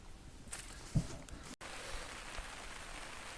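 Steady rain falls on a backcountry lake campsite in the Windermere Conservation Reserve, a soft continuous hiss with a brief patter of drops and no voices.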